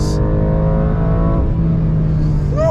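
BMW M2 Competition engine on a track, loud and close, steady harmonic roar that holds its pitch, then drops slightly after a gear change, with a rising whine near the end.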